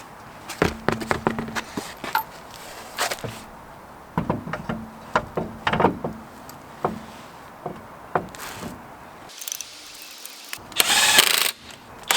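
Tools clank and knock while a wheel goes back onto a Lexus IS250, scattered metallic taps, clunks and short rattles with a quiet pause and a brief burst of harsher noise near the end, no talking.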